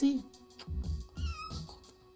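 A cat in the horror film Evil Dead Rise gives a drawn-out meow, close and clear, mixed with film sound and a voice speaking.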